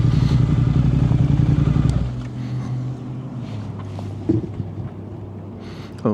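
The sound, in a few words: motorcycle riding in the cold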